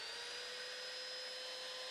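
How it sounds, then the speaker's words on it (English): An electric chainsaw powered by a Jackery Explorer 1000 v2 power station runs with a steady, continuous high-pitched motor whine, faint and unbroken throughout with no talking. "we can see no issues running the electric chainsaw"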